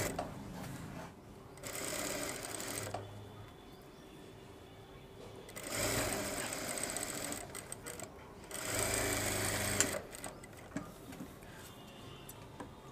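Sewing machine stitching piping onto the slit of a suit, running in three steady bursts with pauses between, close and fairly loud, a faint voice underneath.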